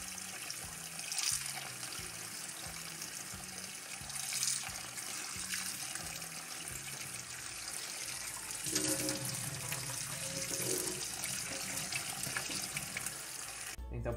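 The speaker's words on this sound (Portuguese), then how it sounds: "a gente vai lavar ele, tá, pessoal? Numa água corrente." Tap water running in a kitchen sink as cooked sago is rinsed, a steady splashing stream with clinks of handling, continuous and moderately close throughout.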